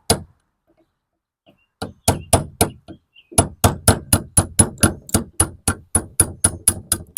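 Metal hammer striking a small safety pin to drive it out during installation of a Killshot II part on a Mustang; a few isolated blows, a pause, then a steady run of sharp, close, ringing strikes with no talk.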